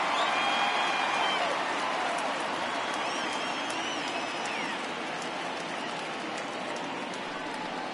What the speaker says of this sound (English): Yeah, clap for him.